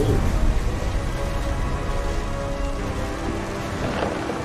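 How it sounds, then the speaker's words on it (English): Steady heavy rain pours with a low, rolling rumble of thunder in a stormy scene from the video game What Remains of Edith Finch, loud and continuous throughout. "The thunder sounded much too close and full of angry power."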